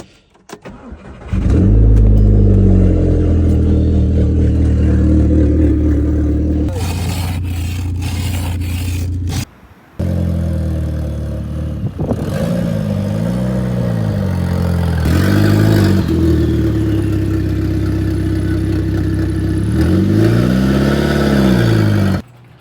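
Cold start of a 2006-2009 Volkswagen Mk5 GTI left sitting for several days: the engine cranks and catches, then settles into a loud, steady idle with pulsing changes in pitch, broken once by a brief cut.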